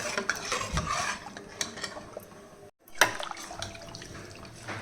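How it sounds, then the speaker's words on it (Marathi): Sambar is stirred in a pot, with close, irregular scraping and sloshing taps of a spoon, a short pause near the middle, then more clinking stirs, moderately loud and without speech. "मिक्स करून द्यायचं आहे"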